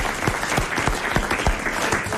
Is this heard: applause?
yes